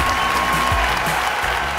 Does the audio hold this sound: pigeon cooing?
no